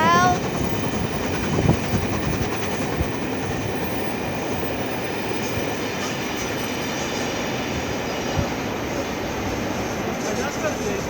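The Sherwood Forester steam train rolls past slowly with a diesel attached, a rumbling clatter of wagons and wheels, moderately distant, with faint squeal and people talking nearby.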